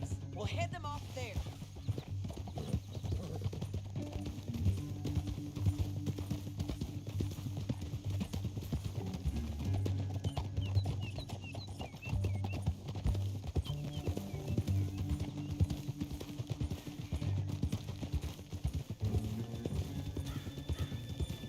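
Rhythmic horse hoof clip-clops in Red Dead Redemption 2 keep going under background music, with a horse whinnying now and then.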